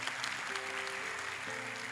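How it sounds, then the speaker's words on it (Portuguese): Steady applause from a church congregation during a sermon, clapping continuously throughout at moderate loudness, with a sustained tone humming underneath. "Vamos aplaudir Jesus pela vida dele."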